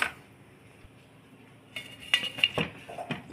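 A lid is set onto a pot of leaf-wrapped kozhukattai steaming on the stove, giving a few clinking metal clatters in the second half after a quiet hiss.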